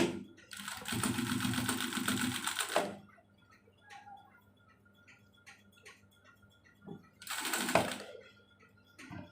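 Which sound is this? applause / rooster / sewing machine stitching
sewing machine stitching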